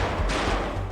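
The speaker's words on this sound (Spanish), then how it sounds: "Los disparos parecen venir de todas partes." Gunfire during the Battle of Alcatraz prison siege, a dense, continuous rattle of shots from several directions, moderately loud with no talk.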